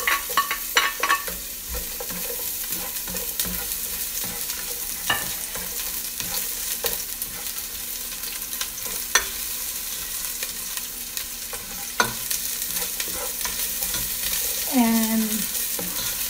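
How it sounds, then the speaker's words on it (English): White onions, one large onion's worth, sauté in a hot pot for chili con carne, giving a steady broadband sizzle with occasional stirring scrapes and utensil clinks, close and continuous with no talk. "The pot is hot enough, so I'm going to saute the onions."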